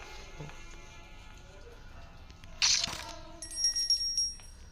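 A bright video game bell chime rings out once, followed by a few short ringing tones over a quiet background hum.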